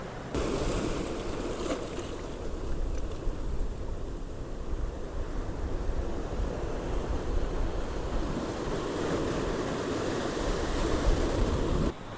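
Ocean waves wash onto the Konkan beach at Devgad in a continuous rolling surf, with wind buffeting throughout and no voices.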